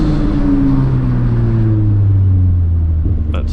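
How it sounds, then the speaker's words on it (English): A Volkswagen MK3 Jetta with upgraded G60 calipers and 280mm rotors on the road, its engine and tire rumble steady and loud, then falling as the car slows under hard braking. "then hard on the brakes"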